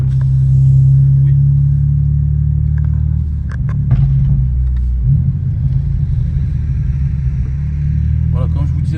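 BMW M3 G80 xDrive with a downpipe and tuned map, a deep rumbling exhaust burbling at idle and revving, with a few crackling pops toward the end, heard up close and loud.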